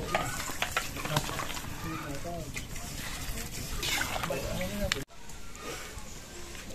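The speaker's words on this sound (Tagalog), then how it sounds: "Nagluluto na po si Kanang tinola" Tinola cooks in a pot over a steady sizzling, bubbling bed of sound, with people talking over it throughout until it cuts off abruptly near the end.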